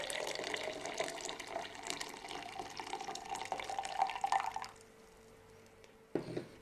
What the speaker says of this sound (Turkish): Önce yeşil çayı koyuyorum.